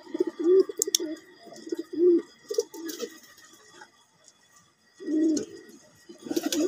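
Large domestic pigeons of fancy breeds cooing in repeated soft throaty bursts, close by, with short pauses between calls and faint chirps and clicks in the background.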